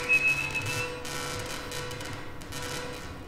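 A big monster in the horror game Lost in Vivo whistles a steady high tone that holds briefly near the start, then fades into a low murky ambient drone, faint and alone with no talking.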